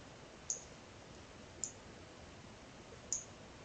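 Three faint, sharp clicks of a computer mouse being right-clicked during Unity terrain editing, spaced irregularly over quiet background hiss with no talking.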